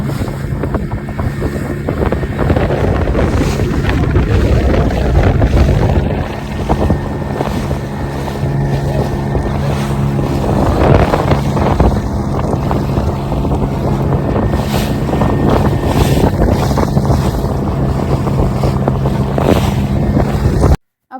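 A motorboat on the open sea off Lakshadweep drones steadily and loudly for about twenty seconds, with heavy wind buffeting the microphone and waves washing beneath it; no one speaks.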